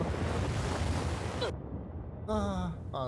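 In The Last of Us Part II, an ocean wave washes over the player with a loud, close rush of surf and wind that cuts out abruptly into muffled quiet, followed by a brief voice.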